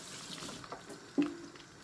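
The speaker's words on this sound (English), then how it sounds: "wash your hand" Tap water runs faintly in a home kitchen as hands are washed during prawn cooking, a low steady trickle with a brief brighter splash partway through.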